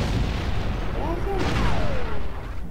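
A grenade goes off in the Star Wars Republic Commando game, giving a dull boom in the middle of steady rumbling battle noise, with gunfire-like bursts around it.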